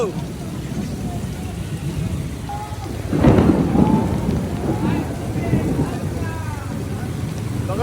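A thunderstorm with steady, close rain hissing throughout, as a louder rumble of thunder swells partway through and slowly fades back into the downpour; faint voices are audible beneath the storm.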